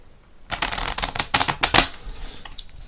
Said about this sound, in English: we're going to give the pack a bit of a shuffle